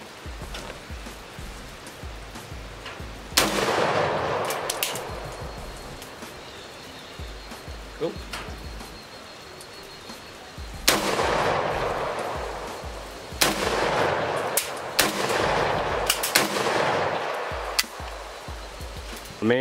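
An SDS Imports Lynx 12 AK-style shotgun fired outdoors through a magazine: loud, sharp reports in clustered bursts, several shots in quick succession with pauses between groups.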